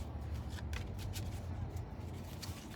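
Tarot cards are shuffled close by in quick, papery riffles and slides on an armrest, a soft continuous rustle over a low background hum.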